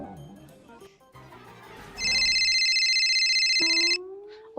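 A mobile phone rings loudly with an incoming call, a bright electronic tone pulsing for about two seconds, followed by a short rising melodic beep, with quiet room background and no voices.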